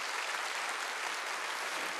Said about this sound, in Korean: 박수 세게 쳐.